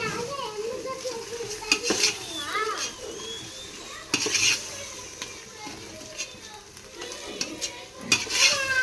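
Six medium tomatoes sautéing and being stirred in a pan while making chicken biryani, with soft sizzling and intermittent scraping and clinking of a utensil, moderately close, with faint background voices.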